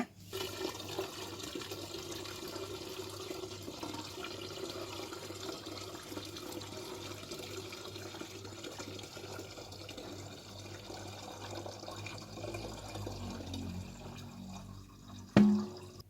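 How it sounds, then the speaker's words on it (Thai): Peach and fresh ginger wine being poured into a fermentation tank makes a steady, close gush of liquid that runs on unbroken, then ends in a short loud knock near the finish, with no talk. "ตอนนี้เราก็พร้อมที่จะเทลงถังสำหรับบ่มได้เลยนะ"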